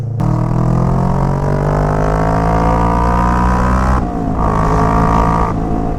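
A Kawasaki Vulcan S 650 cruiser's parallel-twin engine revs hard and close, holding a high, harmonic-rich note for several seconds before dropping briefly and rising again.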